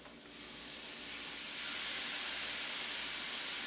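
Half a cup of red wine poured into a hot pan with browned ground beef and vegetables, a hissing steam sizzle that swells quickly and then holds loud and steady.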